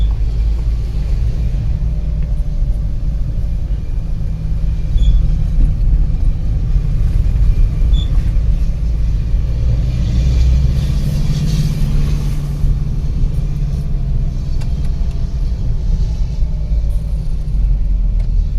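A Force Toofan vehicle drives on a road trial with a steady low engine rumble that swells briefly as it accelerates, continuous and fairly close with no talk.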